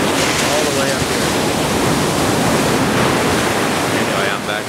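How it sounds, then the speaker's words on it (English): Strong ocean waves roll in with a loud, continuous roar of surf and spray, steady throughout with brief rushing surges. "The waves are coming in pretty strong."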